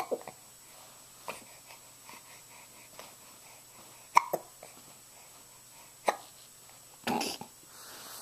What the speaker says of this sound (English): Where'd you get those hiccups?